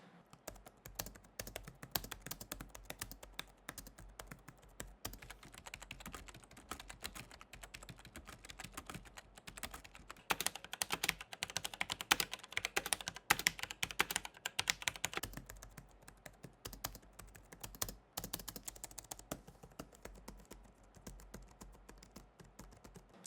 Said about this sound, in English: here's a quick sound test between the Vantar Scissor switches, a normal membrane switch and then some Cherry MX red switches